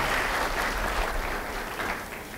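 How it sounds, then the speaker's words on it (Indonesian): A church congregation claps in a steady, dense wash of applause that fills the room without pause, fairly faint and with no voices standing out. "Bapak-bapak yang setuju beri tepuk tangan buat Tuhan"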